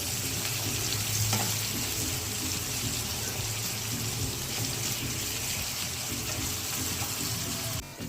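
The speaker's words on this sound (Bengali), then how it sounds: "এটা নেড়ে নিচ্ছি, ভালো করে ভেজে নেবো মশলা।" Spices with onion and salt fry in a pan for prawn biryani, a steady close sizzle with scraping stirs running throughout, no voices.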